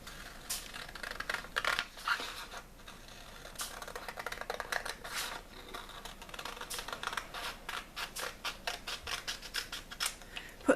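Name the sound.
scissors cutting a paper sewing pattern along the trim line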